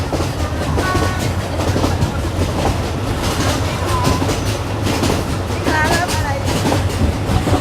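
A moving train rumbles and clatters steadily on the rails, loud and close, with continuous metallic rattling and occasional squeals.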